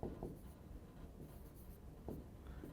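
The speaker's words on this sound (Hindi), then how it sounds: "अब इसको लिखना" Chalk or marker scratching across a board during a maths lesson on permutations, steady quiet strokes with short louder taps, alone without speech.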